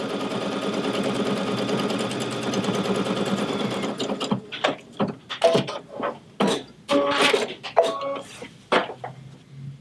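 A Solaris Vision sewing machine stitches through a quilt sandwich with a fast, steady mechanical whir for about four seconds, then stops and gives way to scattered short clicks and knocks.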